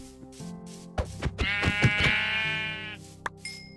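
Sheep bleating in a video game while food cooks and a bed is crafted; a few short bleats, then a long, clear, loud bleat with rich harmonics, followed by a small chime, with no talk.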